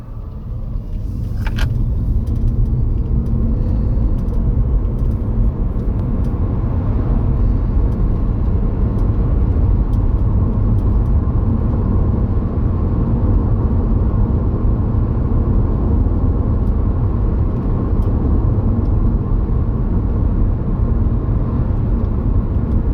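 Steady car engine and road rumble from inside a moving vehicle, a continuous loud drone with a faint higher whine, holding even throughout with no talk.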